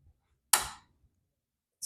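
A trim strip on a 1968 Volkswagen Beetle snaps into place with one sharp, close click that fades quickly. A second click follows just over a second later.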